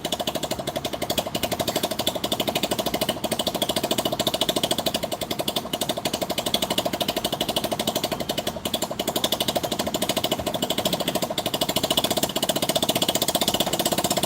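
A small motorcycle with a very low idle runs steadily and close, its rapid, even putter continuing unbroken for the whole stretch.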